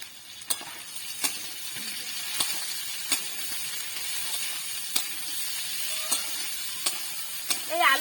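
Potatoes, onion and green chili sizzle steadily in a pan, with a spatula tapping and scraping at regular intervals close by.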